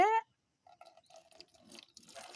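Fermented flour, buttermilk and jaggery mixture poured out for feeding plants, a faint, brief liquid trickle and dripping after a short sound at the start, quiet and close.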